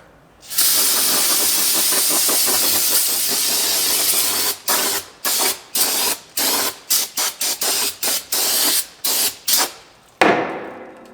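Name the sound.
spraying brake cleaner to rinse a transmission pan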